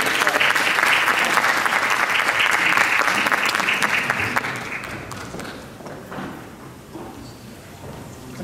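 Sustained, dense audience applause at a Turkish classical music concert as a department head is welcomed onstage, loud and steady for several seconds before gradually thinning out.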